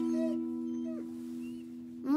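A cartoon dog gives drawn-out whimpering howls over a sustained droning tone, with a short yelp at the end.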